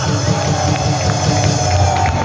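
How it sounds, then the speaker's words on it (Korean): An audience at an outdoor rally gives a big round of applause, a loud, dense wash of clapping and crowd noise sustained throughout, with voices mixed in. "큰 박수 한번 해주시기"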